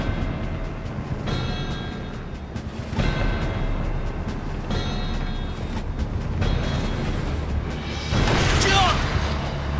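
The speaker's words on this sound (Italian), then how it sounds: "La pattuglia avrà sicuramente sentito gli spari." Gunfire in a sniper duel in Call of Duty: World at War, a few sharp distant rifle shots with booming echoes spaced several seconds apart, heard under game dialogue and battlefield ambience.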